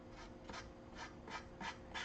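A nail file rubs back and forth along the edge of a craft piece, making about five soft, evenly spaced rasping strokes close up, with no talking.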